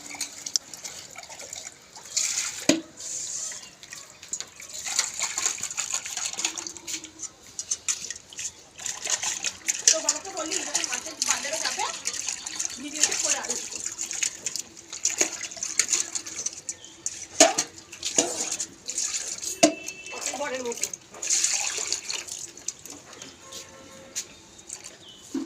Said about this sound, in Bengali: এদিকে কাতলা মাছ ধোয়া হচ্ছে